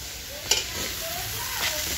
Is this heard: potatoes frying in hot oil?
yes